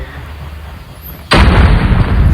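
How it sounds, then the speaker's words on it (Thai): A grenade explosion in the Call of Duty Mobile video game bursts in suddenly after a quiet stretch, a loud, broad boom that holds as a sustained rumble to the end. "ปาระเบิดยัดเลย"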